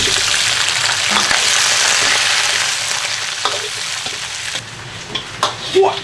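Pork ribs sizzling loudly in caramelized sugar for sweet and sour ribs, a dense continuous hiss with occasional clinks of stirring near the end.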